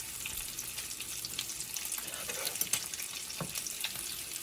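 Bacon sizzles and crackles steadily in a pan for crispy strips, a dense continuous frying hiss with small pops and a few faint clinks, close and fairly quiet with no talking.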